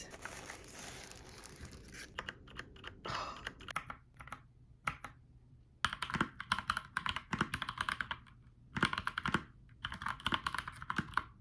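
Someone types on a newly arrived computer keyboard, with clusters of crisp keystrokes broken by short pauses and a few soft crinkling sounds, close up and with no talking.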